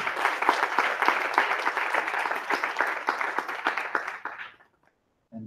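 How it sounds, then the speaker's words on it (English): Audience applause at a Carnatic concert rings out in a dense run of claps, fading out near the end before a brief voice returns. "Please give a round of applause"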